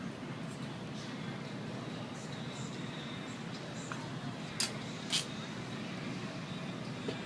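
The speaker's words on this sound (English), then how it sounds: "Notice how the arc that comes out of the glove that adds no protection whatsoever to you." A glove touches a fence energized to 7,000 volts during a live-line safety demonstration, and two sharp snapping arc cracks ring out against a steady background rumble.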